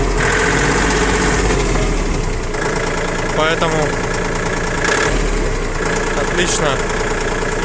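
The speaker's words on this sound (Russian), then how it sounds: "работает трактор прямо-таки отменно" A Kubota L1-185 Japanese mini tractor engine idles steadily at close range, a constant low diesel chug running under a man's brief speech.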